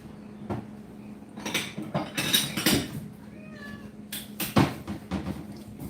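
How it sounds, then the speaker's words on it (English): A cat meows several times in a kitchen while food is prepared, the calls loud and close amid clattering and rustling of cupboards and utensils. "And he's a cat."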